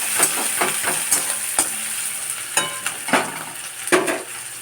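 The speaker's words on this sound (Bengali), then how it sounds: "আমি এবার পেঁয়াজটাকে ভালো করে একটু ভাজবো" Onions frying in a pan for a Bengali drumstick-flower and potato chorchori, a steady sizzle broken by repeated scraping stir strokes of a spatula, close and fairly loud with no talk.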